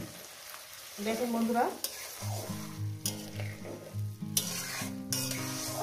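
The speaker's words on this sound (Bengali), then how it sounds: "মশলা বাটি ধোয়ার জলটা আমি দিয়ে দিলাম" Water from rinsing a spice bowl poured into a hot pan of fish curry, a sudden loud sizzle and bubbling followed by steady frying hiss and stirring scrapes, with a voice speaking briefly over it.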